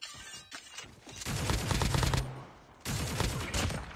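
Two loud sustained bursts of AK-47 automatic fire in Call of Duty Mobile, close and dense, separated by a short pause, with no talking over them.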